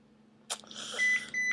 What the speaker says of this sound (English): Oh, a beeping noise. I have a beeping noise.